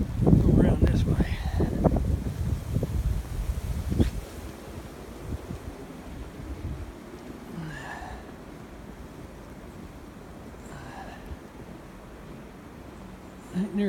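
Blizzard wind buffets the microphone in loud, rough gusts for the first four seconds, then eases to a steadier low rush with scattered rustling and faint distant sounds through the rest.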